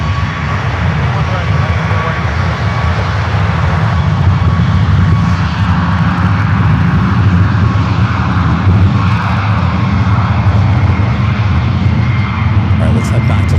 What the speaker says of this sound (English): Korean Air heading back to Seoul, the 777-300ER will be taking off on the 28 left.